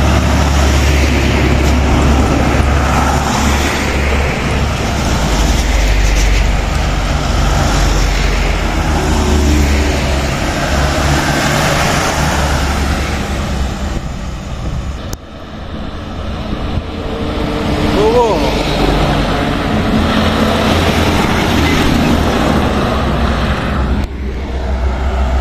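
Heavy trailer trucks, including one hauling sugarcane, roar past on a road, a loud continuous low engine rumble with wind buffeting that dips briefly midway and then swells again.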